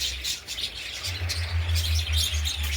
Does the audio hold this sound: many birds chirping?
yes